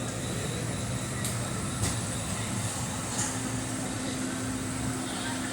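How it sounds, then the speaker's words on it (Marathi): Steady rumbling of a departing Jan Shatabdi Express with a low mechanical drone and faint rhythmic clacks, continuous and moderately loud throughout. "आणि ट्रेन निघाली आपली"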